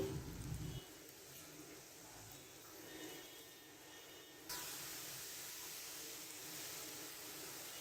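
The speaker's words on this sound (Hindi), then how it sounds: "अब इन सारी चीज़ों को मैं तकरीबन 3 से 4 मिनट के लिए अच्छी तरह से फ्राई करूँगी" Vegetables and boiled chicken frying together in a pan: a faint, steady hissing sizzle that swells noticeably partway through and then holds evenly.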